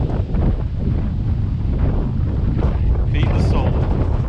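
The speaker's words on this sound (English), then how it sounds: "I know it's incredibly windy today" Strong wind at the Canton Lake dam batters the microphone in a constant loud, low roar, with gusts rising and falling and a faint voice partly buried underneath.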